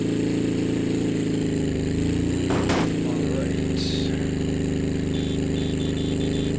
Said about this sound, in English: Yep, engine starved to oil, we get it.